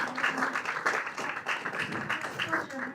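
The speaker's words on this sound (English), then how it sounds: "round of applause" An audience at a church service gives a round of applause, with a spread of scattered hand claps mixed in with talking voices.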